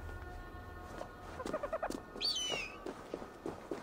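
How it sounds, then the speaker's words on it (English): In the video game Assassin's Creed Valhalla, a bird gives a short series of clucking calls and then a higher rising squawk, fairly close, over quiet outdoor ambience. "Hello, bird."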